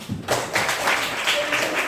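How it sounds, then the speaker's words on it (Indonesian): Students in an Indonesian history classroom break into a brief round of clapping, a dense patter of hand claps that holds steady close by for a couple of seconds. "Oke, tepuk tangan."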